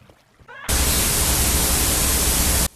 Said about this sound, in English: the video cuts to static